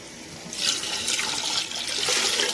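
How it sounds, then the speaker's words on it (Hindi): Water pours steadily into a pan of spiced egg curry to form the broth, a continuous splashing gush that swells after the first half second and runs close and loud throughout, with no talk. "अब मैं इसमें पानी ऐड करूँगी ताकि ये हमारा शोरबा बन जाए।"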